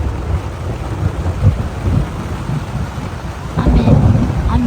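Thunder rumbles low and heavy through a rainstorm at a solo campsite in strong wind, with steady rain noise and a louder roll building near the end.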